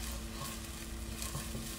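Minced garlic sizzling in a pan for a keto beef ricotta casserole, a soft steady frying crackle with faint stirring scrapes, close but quiet.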